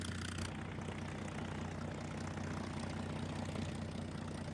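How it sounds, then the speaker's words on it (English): Several US Wildcat fighters and Dauntless dive bombers, World War II propeller aircraft, fly in as a steady, droning engine roar with a low hum that holds throughout. "a group of US Wildcat fighters and dauntless dive bombers flew in"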